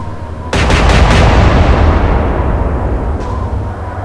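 A salvo from naval guns in the naval warfare game Atlantic Fleet: a sudden loud, booming blast with a rolling rumble that slowly fades, then a fainter second report near the end.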